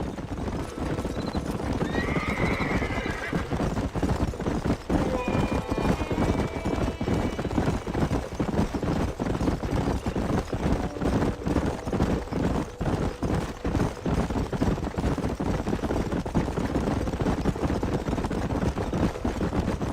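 Horses gallop with steady clip-clop hoofbeats and whinny now and then, all under a continuous busy rumble, in the video game Red Dead Redemption.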